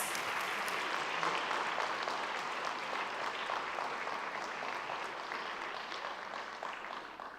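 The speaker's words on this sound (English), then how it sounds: "All right, let's give these guys a round of applause." Sustained applause from an audience at a school board meeting, steady dense clapping throughout that tapers slightly toward the end, with no talking over it.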